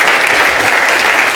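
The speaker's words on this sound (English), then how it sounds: "If we just give another quick round of applause" An indoor audience at a careers event gives a round of applause, dense steady clapping from many hands throughout the short burst.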